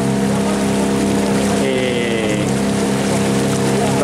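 Motorboat engine drones steadily and loudly as the boat travels downriver with the current after rain, a continuous hum with water and wind noise throughout.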